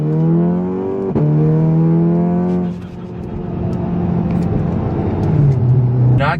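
Close and loud, a Volkswagen MK7 Golf R engine holds a strained pull, then shifts with a sharp break. The note drops into a lower rumble that builds again, with a short hiss near the end.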